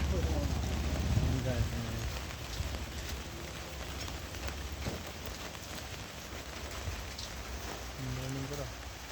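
Steady rain falling outdoors at a high-voltage power line work site, a continuous soft hiss with brief voices over it.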